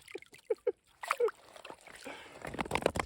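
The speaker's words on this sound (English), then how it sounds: "Let's run all this through the gem sieve." Gravel is shaken through a flimsy gem sieve in water while collecting garnets. A few short knocks come first, then a rising, rushing swish and slosh of water and stones close by, with no talking.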